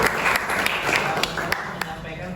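A class audience claps after a student presentation, a steady patter of applause with a few sharper claps standing out and voices mixed in.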